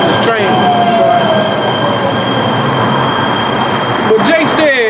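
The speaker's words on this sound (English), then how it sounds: "let this train go out." A train passing close by, a loud continuous rolling roar with high wheel squeals sliding in pitch near the start and again near the end.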